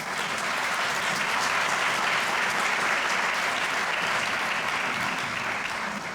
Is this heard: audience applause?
yes